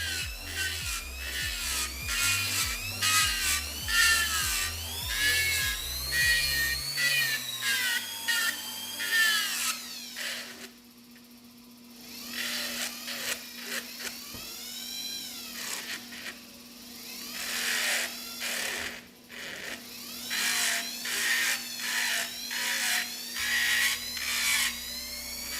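An electric nail drill fitted with a coarse bit whirs close by, a high whining buzz that shifts pitch as it speeds up and slows, running continuously with brief dips and no talking.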